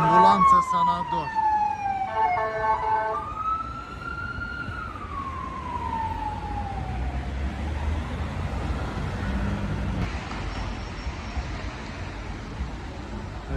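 A wailing ambulance siren sweeps up and down over steady street and traffic noise, loud at first and then fading as it passes.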